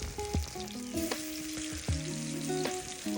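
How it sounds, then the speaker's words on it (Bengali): Marinated hilsa fish fries in mustard oil with a steady, close sizzle, broken by a few sharp clinks of a utensil against the pan. No one speaks. "প্রথমে একটু তেল, সরিষার তেল, এরপর মাছ ম্যারিনেট করে ভাজতে শুরু করলাম"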